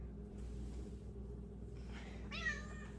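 A pet cat meows once, a short rising call near the end, over a steady low indoor hum.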